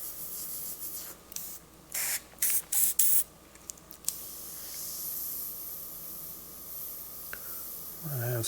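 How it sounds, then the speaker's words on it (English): An airbrush sprays black and grey paint onto a motorcycle saddlebag, a steady close hiss broken by several short louder bursts as the trigger is worked, then a continuous softer flow. "I've got the air in the paint just flowing. I'm just randomly, rapidly moving the airbrush around"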